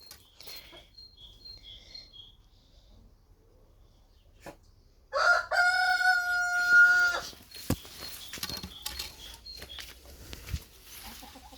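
A rooster crows once from a backyard poultry yard with hens nearby, loud and close, preceded by faint clucking and followed by rustling movement.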